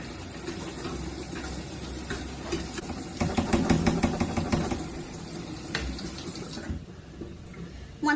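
Cold tap water runs steadily over black beans in a strainer, a continuous close hiss and splatter that swells in the middle and then cuts off near the end.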